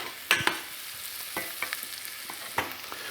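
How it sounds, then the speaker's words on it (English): Shallot sautés quietly in a pan on the stove for a radicchio pasta, with a faint steady sizzle and a few soft scrapes of a spoon. "It needs to saute for a few minutes till it becomes a little bit translucent."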